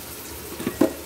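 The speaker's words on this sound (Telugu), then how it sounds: "ఇది మటను ఇది కూడా అదంతా ఫ్రై అవ్వాలి మంచిగా ఈ ఆయిల్లో" Mutton frying in oil with salt, chilli, turmeric, cumin and coriander powder, a soft sizzle with a couple of brief stirring scrapes near the end, close and moderately quiet.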